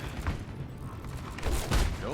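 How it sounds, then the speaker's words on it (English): McCree's flashbang goes off in the video game Overwatch: a short, punchy burst with a couple of rough blasts amid game noise, loud and close. "Okay, so that's the flashbang."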